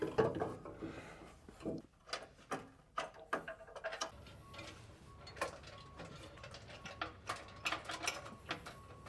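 Bolts being set into a rock slider on a Toyota Land Cruiser 250, heard as faint, sparse metallic clicks and taps in irregular bursts.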